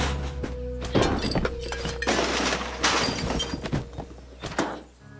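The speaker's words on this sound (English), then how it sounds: "David, let's smash it too." Objects are smashed with tools in the video game Life is Strange: Before the Storm, producing a run of loud thuds, cracks and shattering breaks in an irregular rhythm, close and continuous with no talking.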